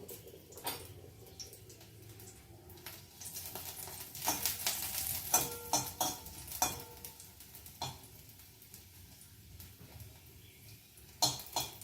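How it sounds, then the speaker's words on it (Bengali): Chopped garlic frying in a little oil in a pan for a Bengali kharkol leaf paste, giving a soft sizzle with scattered spoon scrapes and stirring clicks at close range, without talk. "রসুনটা একটু তেলের মধ্যে ভেজে তুলে রাখবো।"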